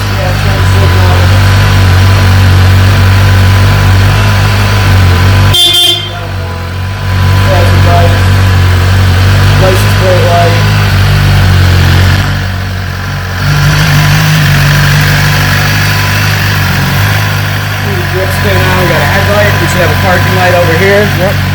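A 2018 BMW S1000RR motorcycle engine idles with a steady, loud mechanical hum, briefly dipping and returning, while people talk over it.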